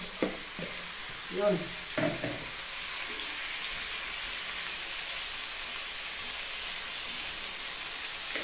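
Chicken pieces dropped into a hot pan for Korean sesame chicken, a few stirring clatters early on, then a steady close sizzle of frying that continues evenly, with a brief word spoken near the start.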